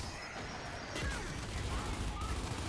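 Gunfire in Gears 5 ranked multiplayer, a burst of shots cracking over a steady bed of game noise while voices talk over it.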